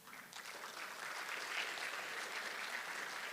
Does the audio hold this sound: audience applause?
yes